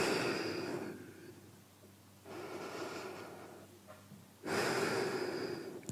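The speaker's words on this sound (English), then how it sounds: "3 breaths" Slow, deep yoga breaths during a beginner weight-loss session, long audible inhales and exhales in clear swells, close to the mic, with brief quiet gaps between them and no talk.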